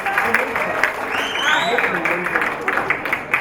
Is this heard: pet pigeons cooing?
no